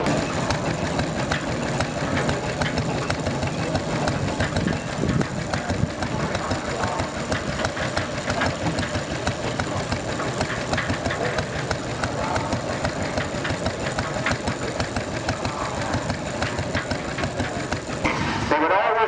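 A 4.5-inch scale steam engine running at a steam and vintage rally, a continuous mechanical chugging and rumble that stays steady and close for nearly twenty seconds, with a faint voice in the background.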